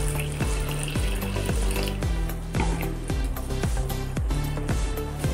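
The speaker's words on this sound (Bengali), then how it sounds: "এবার আমি এটাকে জল দিয়ে অল্প অল্প করে জল দিয়ে গুলে একটা ব্যাটার বানিয়ে নেব।" Flour and water are stirred into a batter for sweet gola roti, giving a steady, close mixing sound with a repeated rhythmic beat behind it, fairly loud and without talk.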